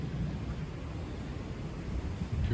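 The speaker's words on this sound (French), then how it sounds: "le vent souffle fortement quand même" Storm Eowyn's wind gusts sweep across open fields, a brief, fairly quiet low rumble of buffeting against the microphone over steady background noise.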